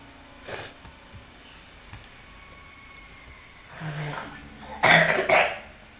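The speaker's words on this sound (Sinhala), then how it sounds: "අනේ මට කැස්ස මට බෑග්ග්‍රවුන්ඩ් එකකින් කහිනවා." A person coughs during PC gameplay of Granny Unofficial, a faint throat-clearing cough near the start, then a louder burst of harsh coughs toward the end over quiet background hum.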